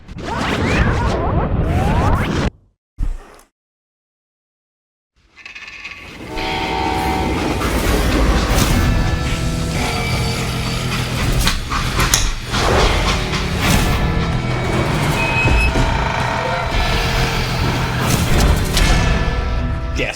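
A freight train in the Western shooter Call of Juarez: Gunslinger rumbles loudly and steadily with rhythmic clattering wheels and screeching metal, broken by a brief dropout near the start, with no talk over it.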